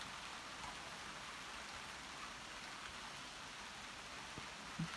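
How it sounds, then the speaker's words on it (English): Steady rain falls outside a covered porch in New York, an even, unbroken hiss of drops on surfaces, moderately loud with only a faint knock near the end. "listening to the rain"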